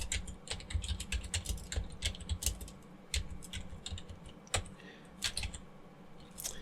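Rapid, steady typing on a computer keyboard, close and fairly loud, with irregular bursts of keystrokes and brief pauses throughout.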